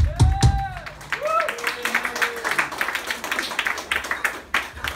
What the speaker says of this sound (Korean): 여러분들 박수 보내주세요.